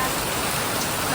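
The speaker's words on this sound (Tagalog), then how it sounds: "dito na napakalakas ng ulan" A heavy downpour pours as a dense, steady, loud hiss of rain with no break or variation, over about a second.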